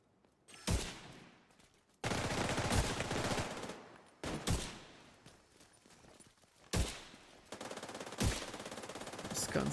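Bursts of automatic gunfire from The Division 2, several sustained volleys separated by short gaps, loud and close, with sharp individual shots punctuating the sprays.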